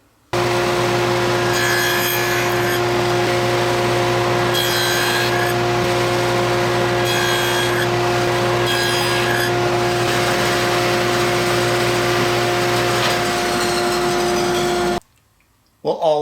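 Saw cutting quarter-inch cherry scrap into splines, a steady close grinding rasp with a constant motor hum that runs unbroken for about fifteen seconds and then stops abruptly.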